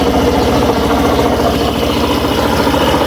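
A Suzuki Burgman Street scooter engine idles steadily close by, a continuous low mechanical hum with faint rattling vibration and no speech.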